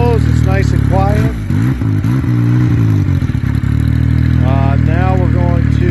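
A Yamaha Sidewinder snowmobile engine runs at a steady, fairly quiet idle with its exhaust cutout valve closed, a constant low hum close by with a few brief rev changes, while someone talks over it.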